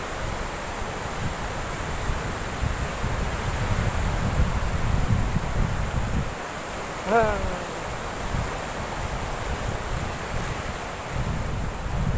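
Sea waves wash steadily onto a Goa beach under heavy wind buffeting the microphone. A brief voice rises faintly midway through.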